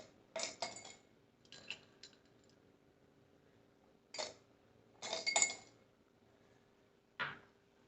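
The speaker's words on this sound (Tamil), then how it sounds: "இதில் வந்து ஒவ்வொரு கிளாஸுக்கும் 3 ஐஸ் க்யூப் போடுறேன்." Ice cubes dropped into drinking glasses, three per glass, while preparing rose milk, giving several short bright clinks in separated bursts with pauses between, close and clear with no talk.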